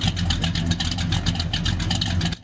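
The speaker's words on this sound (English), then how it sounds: "But high valve overlap, which enables scavenging, also makes the engine idle like this." An engine with high valve overlap idles roughly with a lumpy, loping rhythm, loud and close, cutting off just before the end.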